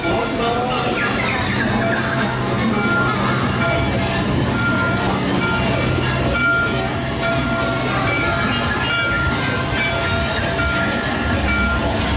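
Steady rumble and rattle of a moving ride car on Disney's Mickey & Minnie's Runaway Railway, continuous and loud throughout, with faint tonal hums and clatter in the background.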